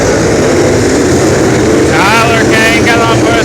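Race cars throttle back up to green flag racing at Brownstown Speedway, a loud, steady engine roar filling the air with rising whines from accelerating cars and a voice briefly heard over the din.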